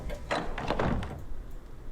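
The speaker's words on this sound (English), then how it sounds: "let's go through this door" A door swinging open in the horror game Arkham Horror: Mother's Embrace, a single muffled thud and creak lasting about a second, close and moderately loud, with no talk.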